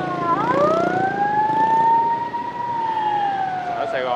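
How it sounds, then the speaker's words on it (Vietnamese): An ambulance siren wails loudly and steadily in a long rising-and-falling sweep as it passes through busy Saigon street traffic, with engine and road noise underneath. "Chúng ta tấp vô cho xe cấp cứu đi qua."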